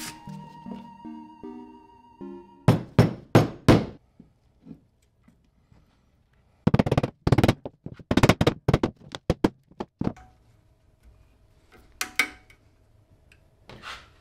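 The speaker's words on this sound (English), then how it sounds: "That was the clamp slipping." Sharp metallic knocks and clanks from a slipping clamp at a forge while a competition chopper is being made, coming in several bursts of rapid impacts separated by quiet stretches, fairly close and loud.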